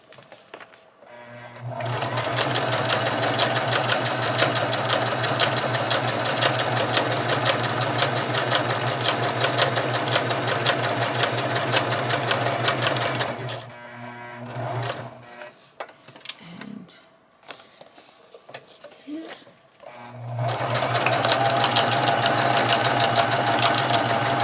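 A sewing machine stitches junk journal pages in long steady runs, a loud close continuous whirring hum that stops for several seconds of handling noises and then resumes.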